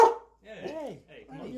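A dog gives a few short barking and yelping calls close by, the first sharp and loud, then two more wavering, whiny barks after brief pauses.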